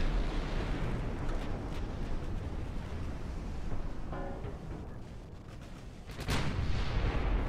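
Naval gunfire and shell impacts on a ship in the game Ultimate Admiral: Dreadnoughts, a continuous heavy rumble of distant booms with a sharper blast near the end, no talk.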